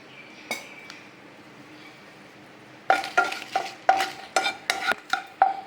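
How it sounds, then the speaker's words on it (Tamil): Dried red chillies stir in a little oil in a pan for black urad dal thuvaiyal, a faint crackle first, then a run of loud, rhythmic scraping and clinking strokes against the metal. "கொஞ்சமாக எண்ணெய் ஊற்றியாச்சு இந்த காஞ்ச மிளகா வறுத்து எடுத்துக்கலாம்"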